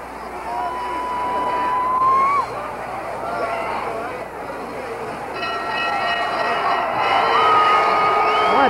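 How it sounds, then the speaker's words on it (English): Boxing crowd at the end of a Muhammad Ali versus Buster Mathis fight keeps up a sustained, loud roar of screaming and cheering with shrill whistle-like cries rising over it. "Screaming. Just screaming."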